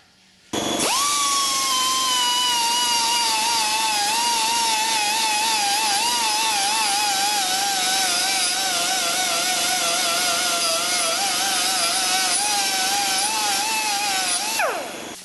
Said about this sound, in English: I'm going to go turn the compressor on